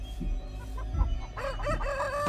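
Chicken in the video game Chicken Feet, a close, loud rooster crow that rises in the second half after some low clucking and thumps, with no talk.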